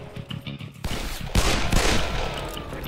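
Gunfire rattles through a Wild West shootout in the video game Call of Juarez: Bound in Blood. Dense, loud volleys of overlapping shots build in intensity, close and continuous with no voices.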